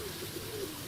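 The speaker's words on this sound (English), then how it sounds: "Plenty of birds this morning." Pigeons or doves coo softly outdoors in the morning, a few faint low tones over quiet ambient noise.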